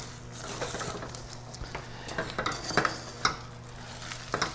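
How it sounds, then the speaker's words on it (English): Miso nut brittle stirred in a pan over a live flame gives a steady scraping and clinking of spoon against pan with a soft sizzle beneath, close and fairly quiet, sharper knocks every second or so. "So I have the flame still on to keep it from seizing up. Just keep stirring."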